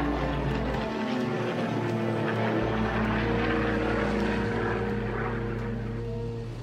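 A Beechcraft Baron E55 twin-engine propeller airplane drones steadily and loudly throughout, its engines giving a continuous close hum with a low rumble beneath.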